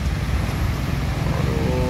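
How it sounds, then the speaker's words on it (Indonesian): A Scania 410 IB tronton truck rolls past on a busy road, a steady broadband engine and tyre rumble sitting close and loud for the whole stretch, with no speech over it. "Udah pernah masuk memang Scania 410 IB Sun ini"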